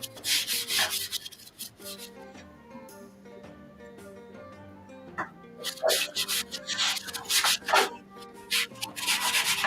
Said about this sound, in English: I think I'm going to be able to sand that out